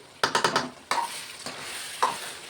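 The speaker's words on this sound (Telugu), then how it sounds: "ఇది కలిపించుకుందాం" Coconut powder is stirred into thick chicken curry in a pan: a quick burst of four spoon scrapes, then a few more spaced strokes over a soft sizzle, close and fairly quiet.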